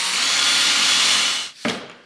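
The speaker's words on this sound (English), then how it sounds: "So then I'll just carry on and drill out and drive in the rest of the screws." A power drill whirs steadily for about a second and a half while drilling and driving screws into a wooden box joint jig, then cuts out and gives one short final burst, close and loud with no talking.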